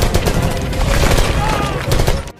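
Rapid bursts of soldiers' gunfire crackle in dense volleys, loud and continuous, with a faint voice underneath before cutting off abruptly.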